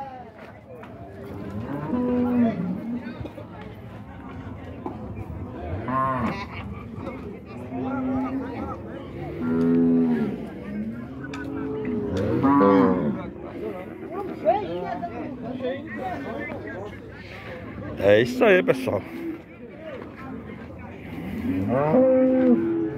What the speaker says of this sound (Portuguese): Bastante vaca de leite, pessoal.